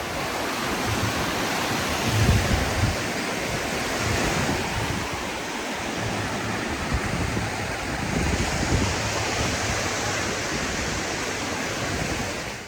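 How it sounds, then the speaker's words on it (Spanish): Ocean surf rolls steadily onto the beach at Playa Paraíso in Tulum, a continuous loud wash of breaking waves with wind noise and a few stronger surges, no voices. "El mar espectacular"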